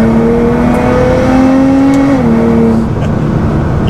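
A Nissan GT-R with an upgraded front-mount intercooler and turbo engine accelerating hard, a loud steady drone rising in pitch before a brief dip as it shifts, with no talking.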